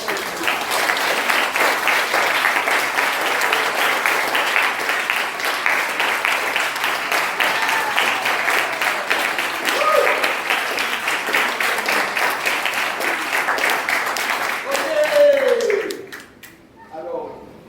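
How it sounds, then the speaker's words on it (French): A church congregation applauds during a Sunday service in a long, steady burst of many hands, with voices calling out over it near the end before the clapping fades and stops. "nous allons applaudir Papa"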